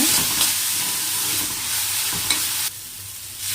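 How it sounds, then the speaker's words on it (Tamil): Curry leaves sautéing in a pan, a loud steady frying sizzle with scraping stir strokes, dropping to a quieter hiss near the end. "கருவேப்பிலையும் சேர்த்துட்டு நல்லா அதை வதக்கி விடுங்க"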